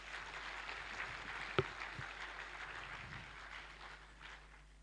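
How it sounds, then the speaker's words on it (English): Audience applause for a guest lecturer at a university convocation lecture, a steady wash of clapping from a large crowd, moderately faint, with one sharp louder clap near the middle. "May I request another round of applause for our guest lecturer."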